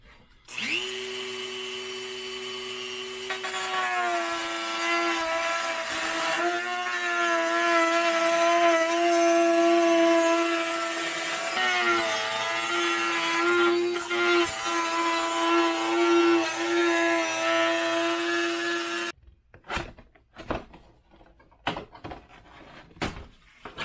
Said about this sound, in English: But if you're a cheater like me, I'm going to use my Dremel.